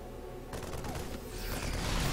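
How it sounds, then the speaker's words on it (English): Liberators in StarCraft 2 fire a rapid, continuous volley of gunfire that starts abruptly and keeps rattling, growing slightly louder toward the end. "the Liberators are shooting"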